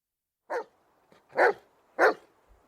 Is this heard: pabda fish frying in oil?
no